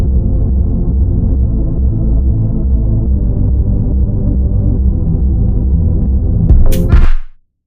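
A thumping electronic intro with deep sub bass and a pulsing rhythm plays steadily, then cuts off abruptly at the end.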